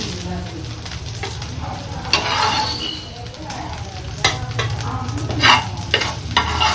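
Food sizzles and fries in a pan with stirring scrapes, a steady crackling bed punctuated by louder bursts, close and continuous, with no talking.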